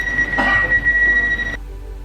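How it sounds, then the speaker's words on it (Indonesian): RFID security buzzer alarm at an office exit for land title documents, a steady electronic tone sounding continuously for about one and a half seconds, then cutting off abruptly. "maka secara otomatis buzzer alarm akan berbunyi dan menyala"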